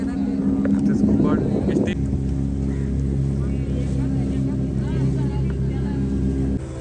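Boat motor running steadily as the boat approaches the shore of Sindhudurg fort, a constant close drone with a voice talking over it at the start.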